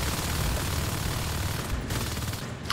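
Continuous dense gunfire in Natural Selection 2, marines shooting at an alien shift structure, a steady loud rattle of rapid shots filling the whole stretch with no gaps.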